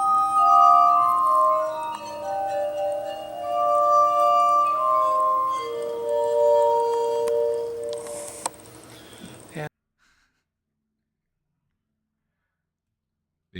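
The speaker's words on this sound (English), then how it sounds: "Be careful with the glass harmonica." Glass harmonica of tuned glass bowls rings out in sustained, overlapping pure tones with a glassy shimmer, several notes gliding into one another, then stops abruptly, leaving near silence.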